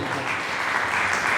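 A crowd at a Yoruba cultural programme applauds, a continuous, fairly loud wash of clapping heard up close, with faint background voices mixed in.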